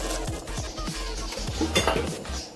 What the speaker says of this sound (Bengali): দিয়ে দিচ্ছি কেটে রাখা গাজর